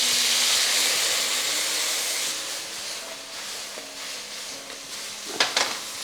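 Beef and vegetables in sauce sizzle in a pan on medium heat with a steady, close hiss that slowly eases, then a brief clatter near the end. No voices.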